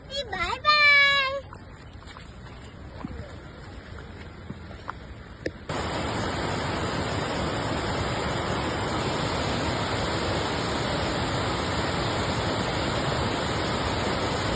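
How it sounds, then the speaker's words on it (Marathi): Ashoka waterfall roars as a loud, steady rush of falling water, preceded by a few seconds of voices and a brief chirping tone before the full continuous roar takes over. "फायनली आलेला आहे अशोका धबधब्याला"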